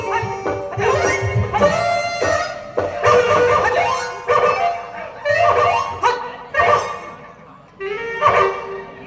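Street dogs barking and yelping in a string of loud, close bursts with short gaps, some cries drawn out into whines.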